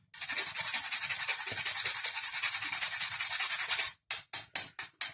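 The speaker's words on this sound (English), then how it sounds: "just a nice grating of fresh nutmeg" Fresh nutmeg is rubbed rapidly across a grater for soup, giving a steady run of raspy, even scrapes up close, then a few slower separate strokes at the end.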